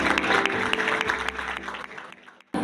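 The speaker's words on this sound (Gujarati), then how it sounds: "જરા જોરદાર તાળીઓ થઈ જાય" Guests clap loudly and continuously at a traditional Gujarati engagement ceremony, a dense crowd applause that holds steady for a couple of seconds before cutting off.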